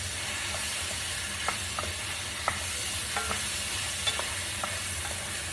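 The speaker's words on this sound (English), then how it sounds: "let's stir that around" Ingredients for Italian-style lentils are stirred in a pot over a soft frying hiss, with a few faint spoon scrapes and taps. The whole thing stays quiet and steady, and nobody speaks.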